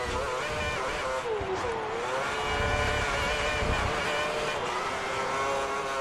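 Formula 1 race car engine in the game F1 2010, running in a race behind a Lotus, a loud continuous high-pitched whine with shifting revs and pitch sweeps, close and steady, no talking.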